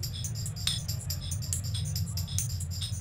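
A tambourine loop with its first slices randomly pitch-shifted, a steady stream of bright jingling hits with uneven pitch, over a low continuous hum, moderately loud and close.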